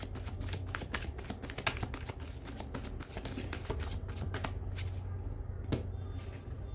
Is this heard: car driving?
no